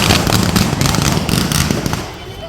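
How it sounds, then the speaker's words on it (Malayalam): Firecrackers burst in a dense, loud crackling volley at a temple festival, rapid overlapping pops close by that thin out toward the end. "ഗൈസ്, അപ്പോഴത്തേക്കും പടക്കം പൊട്ടിക്കാനായിട്ടുണ്ട്."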